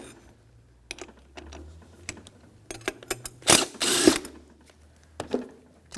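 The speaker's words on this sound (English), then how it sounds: "So I'm going to use a socket and a 17mm wrench to hold the slider bolt." A socket ratchet clicks in short bursts and a wrench clanks as 14mm bolts on a front brake caliper slider are loosened on a 1992-1996 Toyota Camry, with brief sharper metallic scrapes near the middle; close and alone.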